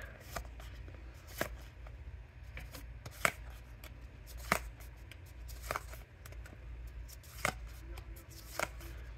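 A Pokémon Crown Zenith card pack is torn open and the cards shuffled through, giving quiet close-up crinkling with a run of sharp, evenly spaced snapping flicks and no talking.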